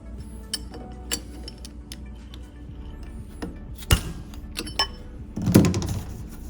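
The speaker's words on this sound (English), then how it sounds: "We take our wrench and we're going to give it a whack." A wrench whacked against the retaining nut of an Ampco ZP1 Series pump to loosen it during a double o-ring seal change, giving a few sharp metallic knocks in a quiet workshop, the loudest near the middle and a heavier clank near the end.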